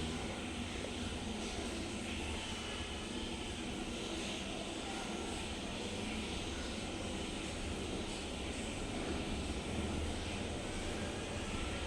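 An electric wet grinder for batter runs in a steady, continuous whir that fills the whole stretch without pauses.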